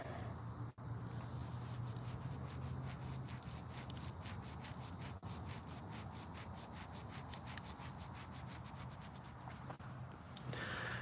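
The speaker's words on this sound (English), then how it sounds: "All I'm hearing is crickets right now" Crickets chirp outdoors at night in a dense, steady, continuous trill of rapid pulses that runs unbroken from start to finish, with no voices.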